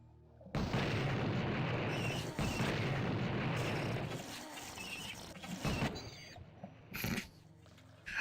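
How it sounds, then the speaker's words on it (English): A spider enemy blows up in the first-person shooter Blood, a loud sustained explosive roar with heavy low rumble filling most of the stretch, easing into scattered clatter and pops, then a sharp final burst near the end. "I like how that spider blew up enough."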